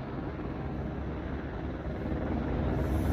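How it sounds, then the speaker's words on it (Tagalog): A helicopter lifts off near a residential area in Kathmandu, Nepal. Its dense, roaring rotor and engine noise mixes with wind rush and grows slightly louder toward the end. "papalipad na ang helicopter. Malakas na yung ano niya guys, yung hangin."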